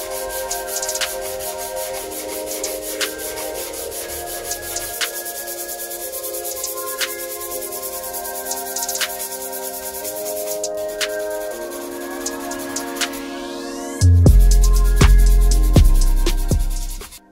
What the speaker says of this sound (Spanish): vamos a pasarle unas lijillas a eso